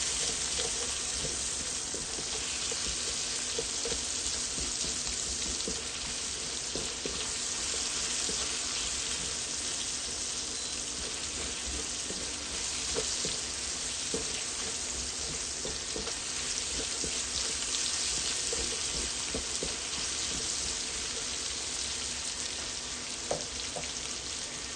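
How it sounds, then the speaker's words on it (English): Onions sauteing in a pan for Filipino pancit, giving a steady, close, broadband sizzle that runs unbroken for the whole stretch with no voices over it. "we're going to add the rest of our onions. And we're going to saute that."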